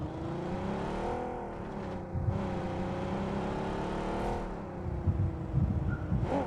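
Car engine driving in the mobile game PUBG Mobile, a steady droning hum with shifting revs that runs the whole time and swells louder near the end.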